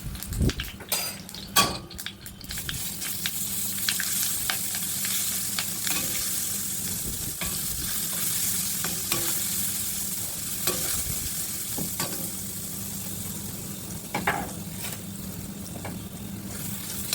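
Garlic and oil frying steadily in a pan for shawarma, a continuous close sizzle with occasional stirring clatters and louder spits early on, no voices.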